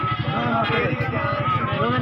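Goats at a goat farm bleat nearby, their wavering cries mixed with someone talking over them throughout.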